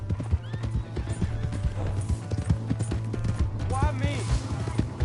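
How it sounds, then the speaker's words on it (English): Horse hooves clip-clop in rapid, uneven beats during a ride in Red Dead Redemption 2, with a whinny rising near the end and voices talking over the hoofbeats. "Hey, that's my horse!"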